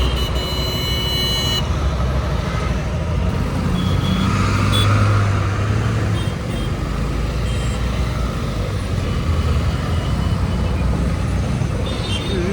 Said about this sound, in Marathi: ट्रॅफिक लागायला लागले